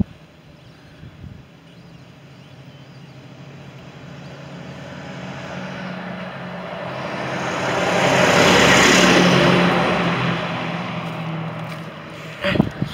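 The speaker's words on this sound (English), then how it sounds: "There's a great big lorry coming now, so I'm going to get out the way." A big lorry passes along a country lane, its engine rumble swelling slowly from a distance, peaking loud and close, then fading as it moves away, with a brief knock near the end.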